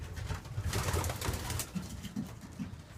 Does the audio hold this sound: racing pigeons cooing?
yes